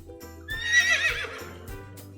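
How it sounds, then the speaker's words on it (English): A horse gives a loud, clear, high whinny that rises and trails off, accompanied by a few soft thumps, heard alone with no talking. "H for horse."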